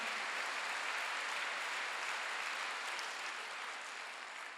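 A church congregation at a Sunday worship service breaks into applause, a thick, continuous wash of many hands clapping at moderate volume that tapers slightly toward the end.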